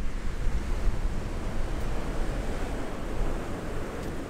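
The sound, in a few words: ocean waves crashing at Nusa Lembongan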